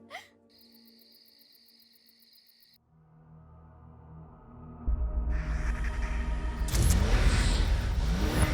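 A car in a South Indian film drives up at night, its engine building from a faint rumble into a loud, close roar over the steady chirp of crickets.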